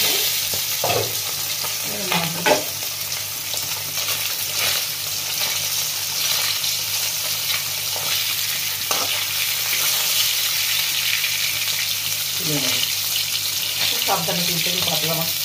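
Pabda fish frying in a pan, a steady loud sizzle throughout with a few brief scraping or handling sounds over it, close by.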